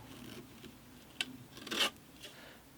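Wooden guitar-body edge rubbed by hand along the drum of a stopped spindle sander, a few short scraping rasps with one louder, longer rub near the end, quiet and close, no voices.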